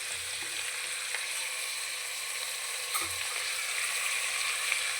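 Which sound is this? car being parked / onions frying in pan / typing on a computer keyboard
onions frying in pan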